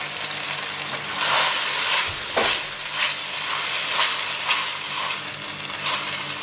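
Spaghetti aglio e olio sizzling in a frying pan with a steady hiss, broken by periodic scraping strokes as it is stirred; no voices.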